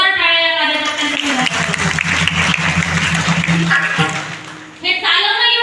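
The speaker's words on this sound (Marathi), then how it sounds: "त्या जोरदार टाळ्या या कार्यकर्त्यांनी" A crowd at a Bhagwat katha and kirtan gathering breaks into loud, dense applause for the volunteers, a sustained roar of clapping that drops away near the end, with a voice speaking just before and after it.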